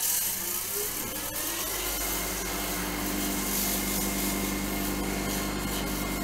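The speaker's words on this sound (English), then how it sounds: "Will resort to a little bit of sanding on it." Sandpaper rubbing a spinning turned wooden beaded bowl on a lathe, a loud continuous abrasive hiss riding over the lathe's steady motor hum, starting after a brief rough scrape.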